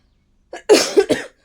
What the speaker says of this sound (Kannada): ನನಗೆ ಸ್ವಲ್ಪ ಕೆಮ್ಮು